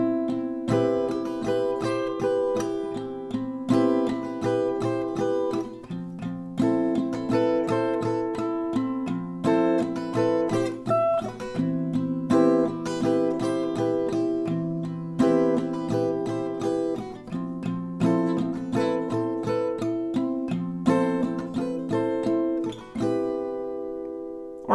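Acoustic guitar strums chords from a song, with single melody notes threaded between the strums, held at a steady, even rhythm close to the microphone for the whole passage, with no talking.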